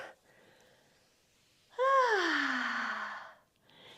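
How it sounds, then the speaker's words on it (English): A long audible exhale during a yoga flow, a single drawn-out breath of about a second and a half, close and fairly loud, following a quiet stretch. "Exhale, hands to heart."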